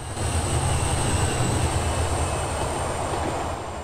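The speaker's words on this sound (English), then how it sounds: "That train's now on its way back." A train running in the simulation game Transport Fever, a steady rumbling roll with a thin high whine above it, continuous and fairly close, easing slightly at the end, with no talk.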